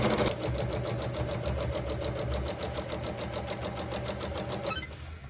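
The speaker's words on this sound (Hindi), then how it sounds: "सबसे पहले आपको स्टिच करके दिखाते हैं इस मशीन के ऊपर।" Singer sewing machine running a simple straight stitch, a steady rapid mechanical chatter of the needle and motor held close and loud for about five seconds, stopping near the end with no talk.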